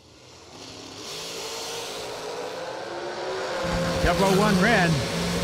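A dragster at a drag race launches and accelerates, its engine roar building steadily and rising in pitch under a track announcer's voice.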